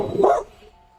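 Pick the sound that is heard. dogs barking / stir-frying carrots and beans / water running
dogs barking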